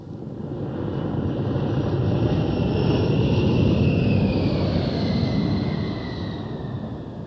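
An A-10 Warthog jet passes with a loud rushing engine roar that swells, holds, then eases, carrying a high whining tone that shifts in pitch as it goes by.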